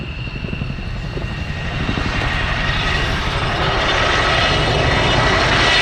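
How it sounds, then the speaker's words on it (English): A Chinook helicopter flies at an airshow, giving a loud, continuous rotor and engine roar that swells gradually as it builds forward speed. "Having built up forward speed, the Chinook will now reposition to provide overwatch for the troops on the ground"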